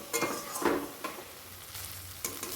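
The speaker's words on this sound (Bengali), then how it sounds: "দেখুন আমার মশলাটা প্রায় কষানো হয়ে গেছে" Spice paste for a jackfruit and red lentil curry frying in a pan, stirred in a few quick scraping strokes over a soft, close sizzle, fairly quiet with no talk.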